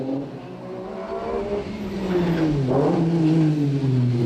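Ford Escort rally car at the 2000 Manx Trophy Rally sliding sideways through a town stage, engine loud and close with a rising rev pitch as it passes, harsh and continuous throughout.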